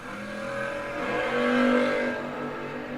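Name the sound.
Camaro drag racing launch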